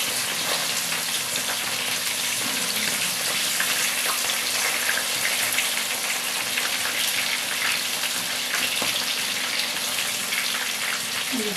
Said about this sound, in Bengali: মাছগুলোকে আমি একটু লাল লাল করে ভেজে নেব